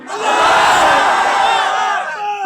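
A large crowd at a religious gathering roars a unified shouted slogan in answer to a call, loud and sustained for about two seconds before fading.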